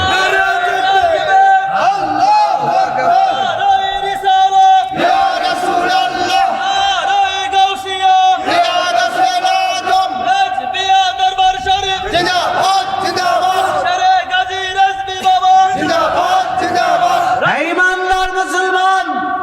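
A large crowd at a Sunni religious gathering chants and shouts the takbir in loud unison, answering a speaker's amplified call through a PA system, continuous and echoing.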